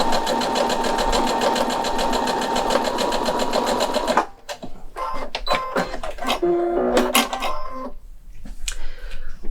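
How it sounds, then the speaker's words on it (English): A sewing machine, H640/H630 model, stitches down a fabric seam in a steady, fast mechanical whir for about four seconds, then stops and gives way to quieter handling clicks and rustles. "And then we'll just sew down the other side."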